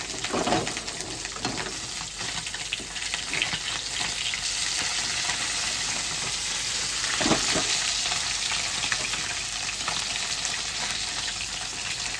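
Fish frying in a pan gives off a steady, close, dense sizzle that runs without a break, with a brief clatter partway through and no voices.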